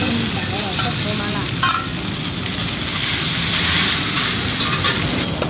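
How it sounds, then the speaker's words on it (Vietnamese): Rice flour cake (bột chiên) frying in a pan at a Tuệ Tĩnh street stall, a steady close sizzle with stirring scrapes, while people talk nearby. "đây là phần bột chiên cuối rồi"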